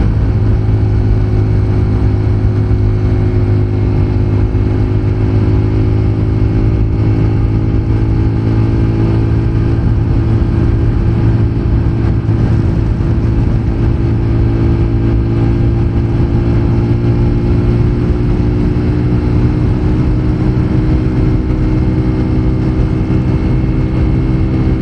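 Apache 200 Fi ABS motorcycle engine under steady load while climbing uphill, a loud, close, continuous drone with harmonics slowly rising in pitch, no talk.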